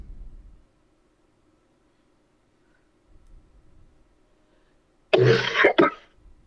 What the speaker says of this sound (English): That's all I do is cough all day long.